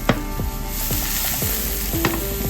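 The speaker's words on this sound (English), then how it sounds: "Add some herbs and flour and fry the skin first until it gets brown" Fish skin coated with herbs and flour sizzles steadily in a hot pan, with a continuous close frying hiss broken by repeated scraping stirs and small clatters at an even rhythm.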